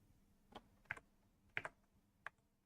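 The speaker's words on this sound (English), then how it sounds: "So if I tap on the keyboard" A few scattered, quiet key taps on a computer keyboard, four to five distinct clicks spaced irregularly over a couple of seconds with near silence between them.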